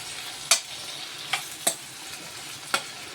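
A spoon scrapes and stirs a brinjal and egg mixture frying in a pan, with a steady sizzle and four or five sharp clacks at irregular intervals, close and clear, no voices.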